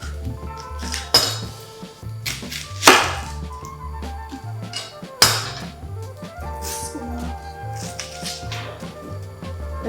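A kitchen knife quarters half an onion for quick beef pho, thudding against a cutting board in a few uneven chops mixed with light clinks of utensils and dishes, close and with no talking.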